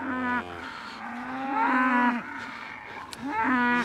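Cow mooing in long, loud, harmonic calls, one stretching about two seconds, with another starting near the end, close by with no talk.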